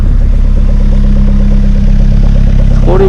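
A loud Rewaco trike motorcycle with a turbo engine idles close by with a steady, throbbing exhaust pulse, and a voice briefly comes in near the end.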